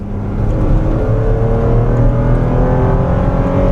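A 2014 Lexus RX350 F-Sport SUV with an 8-speed automatic is driven hard through corners, its engine a loud, steady drone whose pitch climbs gradually as it accelerates.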